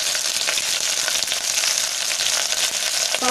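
Lump asafoetida frying in hot oil for Tamil Nadu sambar, a steady, dense sizzle that crackles evenly throughout, close and fairly loud, with no voices.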